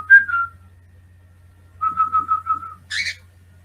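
A person whistles to imitate bird calls: a single warbling note, a pause, then a quick run of repeated chirping whistles and a higher trill, all close and clear over a low steady hum.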